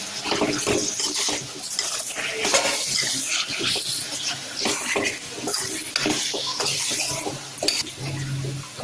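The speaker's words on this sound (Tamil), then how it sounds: "மிக்ஸ் பண்ணிக்கிறேன்" Spice masala with chilli powder and turmeric stirred in a pan for a drumstick masala, giving repeated scraping and clinking strokes of a spoon against metal at close range, with no talk.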